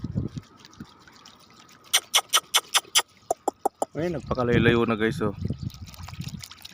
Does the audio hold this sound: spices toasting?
no